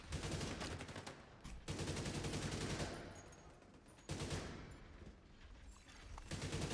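A turret firing in The Division 2 during a power plant mission, long sustained bursts of rapid automatic fire with short gaps between them, close and loud, no talk.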